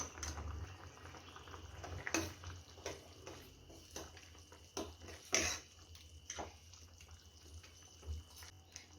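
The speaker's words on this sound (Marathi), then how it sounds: "छान अशी उकळी आलेली आहे" Potato rassa curry simmers in an open pot on a low gas flame, a soft, steady bubbling with faint pops and gurgles close by.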